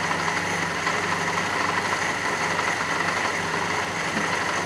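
A Fiat Panda 4x4 engine with a carburetor fault idles steadily up close, a constant low hum with a faint mechanical whine, no voices.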